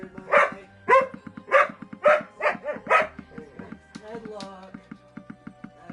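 A dog barks and yips in a quick series of sharp, fairly close bursts, with whimpering and a steady ticking rhythm underneath, at a home during a live game stream.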